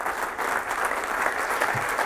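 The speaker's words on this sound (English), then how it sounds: "Let's give him a round of applause." Audience at a university executive lecture breaks into steady applause from many hands, a dense even roar of clapping that holds for about two seconds with no talk over it.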